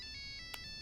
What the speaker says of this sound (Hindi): अरे फोन है। अरे मेरे पास फोन है।